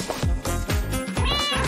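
A tiny kitten meows in a series of close, insistent, high-pitched cries, several short calls rising in quick succession and ending in one longer wail, with no talking over them.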